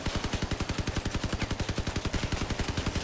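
A rapid-fire Quad M-39 Imp machine gun in a video game rattles steadily and loudly, with evenly spaced rounds in a fast continuous stream throughout.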